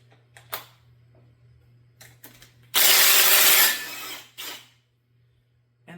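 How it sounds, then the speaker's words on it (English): A 1/2 inch impact wrench adapted down to a 1/4 inch socket fires one loud rattling burst lasting about a second, then a shorter burst. Light mechanical clicks and handling sounds come before it over a low steady hum. "this is a 1/2 inch impact adapted down to a 1/4 inch socket"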